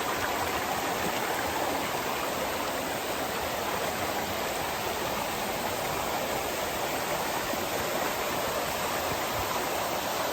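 Water rushing down a waterfall and along a stream at Yaggala, a loud, steady broadband roar that holds unchanged throughout, with no voices.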